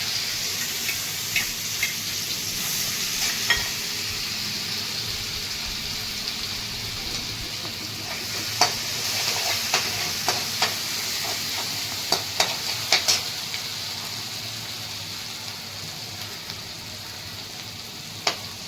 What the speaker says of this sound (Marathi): ते खोबरं आणि लसूण याची पेस्ट केलेली अगोदर तळून घ्यायची